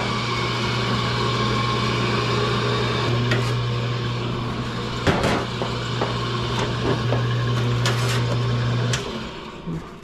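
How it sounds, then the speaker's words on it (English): A sheet metal machine rolls a lip onto a duct with a continuous mechanical hum and drone, broken by a few sharp clanks, then winding down near the end. "Here's our machine that actually puts that lip in there."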